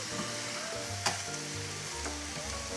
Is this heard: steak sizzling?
yes